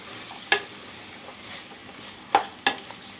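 A spoon stirs fenugreek leaves and broad beans through curry in a pan, giving a few sharp scrapes and clinks at scattered moments over a faint background hiss.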